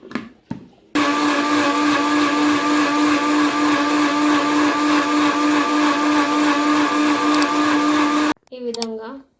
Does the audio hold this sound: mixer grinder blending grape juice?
yes